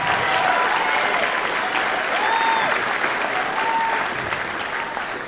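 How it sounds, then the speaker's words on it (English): A school audience applauds the fifth graders at an elementary school spring concert, dense steady clapping filling the hall and slowly easing off, with a few faint whistles and cheers cutting through. "a nice round of applause for our fifth graders"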